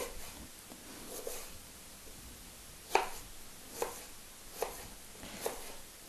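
A knife chops fresh ginger on a cutting board into thin slices and small cubes, with about half a dozen crisp, separate strikes at an uneven pace, close and clear, and no talking.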